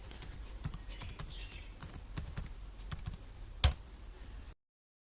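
Keys clatter on a computer keyboard as a root password is typed in a Linux terminal. Quick, irregular clicks run close and clear, with one sharper key strike near the end before the sound stops.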